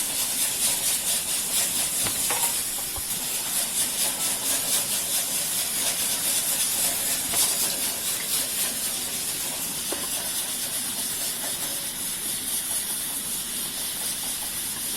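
Wheat-flour modaks filled with jaggery and coconut deep-frying in hot oil give a steady, loud, even hiss that runs unbroken from start to finish, with only faint bubbling beneath it.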